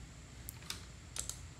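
Text being typed on a computer keyboard while working in Photoshop, a few quiet, sparse key clicks in small clusters against a faint background hum.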